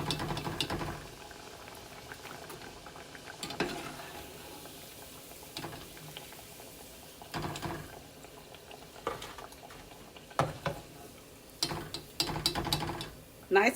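Cheese spinach ravioli frying in hot oil, a steady bubbling sizzle throughout with occasional louder crackles and clicks near the end.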